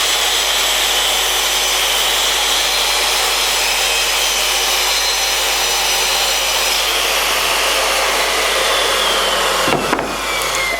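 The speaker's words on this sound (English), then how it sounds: "cut the 2 boards exactly in half down the central line" A power saw runs steadily through two wooden boards, a loud, continuous whine with no break until a brief dip near the end as the cut finishes.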